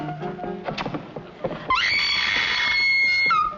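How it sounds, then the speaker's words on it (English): A woman in a 1953 film screams, a sustained, piercing shriek held for nearly two seconds after a few brief bumps and sounds. "Do I hear a lady screaming?"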